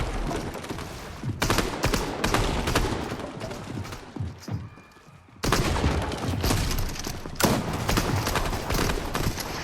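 Rapid bursts of gunfire in a Fortnite match, loud and dense, with a brief lull in the middle before the shooting resumes just as heavily.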